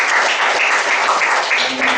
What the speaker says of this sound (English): Let's give our butterfly master a round of applause.